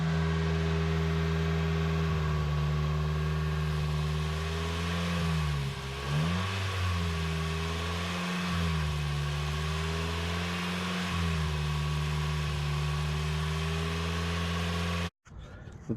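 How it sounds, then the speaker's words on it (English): A car engine is held at raised revs around 2500 while Sea Foam cleaner is sprayed into the intake, a loud steady hum with a few brief dips and surges in pitch before cutting off abruptly near the end. "you turn the car on and get someone to rev it up to like 2500 and spray it"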